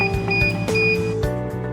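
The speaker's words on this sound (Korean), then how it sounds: "30초에서 50초면 껍질이 제거되고 알람이 울립니다." A chestnut peeling machine sounds its alarm when peeling is done, giving a series of short, clear electronic beeps in a repeating pattern over a low motor rumble.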